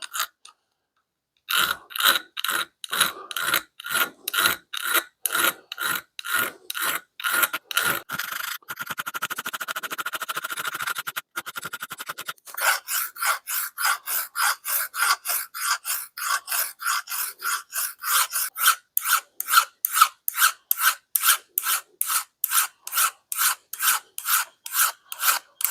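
Steady back-and-forth strokes of a hand file scrape rust from a small Wilton bench vise, dozens of close, rhythmic rasping passes, briefly broken by a smoother scraping stretch midway before the even strokes resume.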